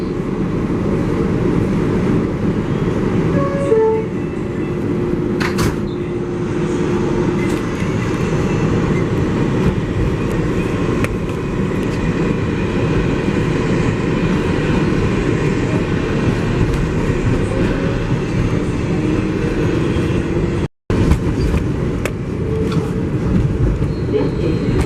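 A Flushing–Main Street bound MTA 7 local subway train runs at speed, heard from inside as a loud continuous rumble and roar with faint rail squeals, sustained throughout with one brief dropout.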